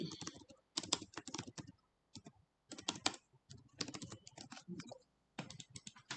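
Quick bursts of typing on a computer keyboard during data entry in office asset-management software, close and crisp clicking in irregular clusters with short pauses between runs of keystrokes.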